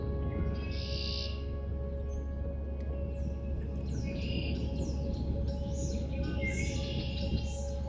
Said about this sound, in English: hundreds of birds chirping and the occasional croak from the marsh